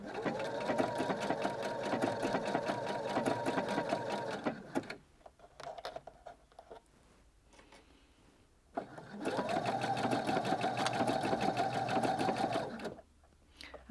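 A sewing machine runs blind hem stitches through folded fabric in two sustained stretches of rapid, even mechanical chatter, close and steady, separated by a quieter pause with a few faint handling noises.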